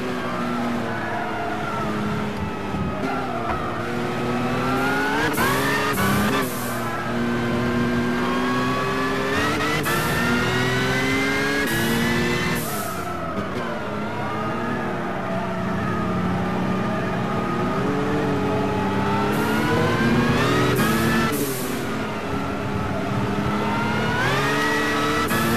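A racing car's engine roars throughout a Gran Turismo 6 race at Spa, climbing steadily in pitch through the gears, dropping with each shift and climbing again, loud and close with no talk.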